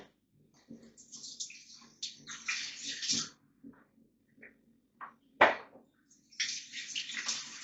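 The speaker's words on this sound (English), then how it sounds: "So I'm just going to wash my hands off a bit." Water from a kitchen tap splashes in short, irregular bursts as hands are washed during sausage roll preparation, fairly quiet and close, with brief pauses between the gushes.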